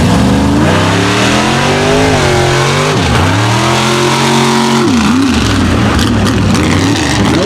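A mega truck engine revs hard during mud racing, loud and close, its pitch climbing, dropping and climbing again through several throttle swells with a heavy rumbling tone.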